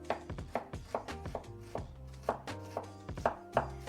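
A sharp knife chops ginger on a cutting board, roughly a dozen crisp, close knocks in an uneven rhythm, sometimes in quick pairs, with nothing else heard.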